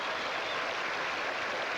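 A tennis crowd at Hilton Head in 1985 applauds Pam Shriver during her match against Gabriela Sabatini, a dense, steady wash of clapping that holds evenly throughout.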